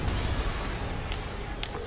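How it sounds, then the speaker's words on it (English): A deep, rumbling explosion in the Spider-Man video game, a loud low boom fading into a dense roar with a few faint crackles and pops near the end. "an explosion"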